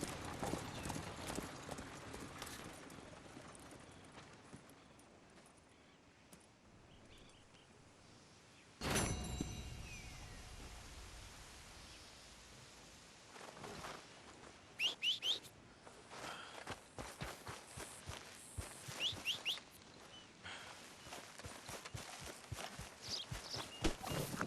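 Horse hooves clip-clop steadily in the video game Red Dead Redemption 2, a continuous rhythmic walking gait with a sharp sound near the middle and some brief clatters later, heard without talk.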